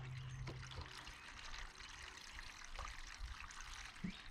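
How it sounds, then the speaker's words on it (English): Water poured over seed trays of marigold and basil makes a steady, faint trickling and splashing that runs throughout, with a few small knocks along the way. "I could get away with top watering like this"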